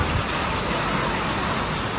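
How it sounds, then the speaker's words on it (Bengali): Heavy rain falling outside a Dhaka metro rail station, a dense steady hiss of downpour, close and loud with no pauses. "মেট্রো রেল থেকে নেমে পড়ে দেখে অনেক বৃষ্টি শুরু হয়ে গিয়েছে।"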